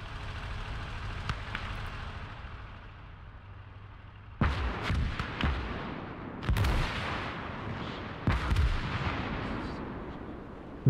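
Artillery fire in the WWII strategy game Call to Arms: Gates of Hell, German conquest mode: three heavy booming blasts land a couple of seconds apart over a constant low rumble of battle, with scattered fainter thuds in between.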